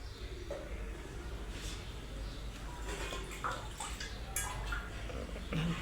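Water poured into a pot while making traditional jowar papad batter, a steady wet rush of liquid running continuously beneath faint background noise.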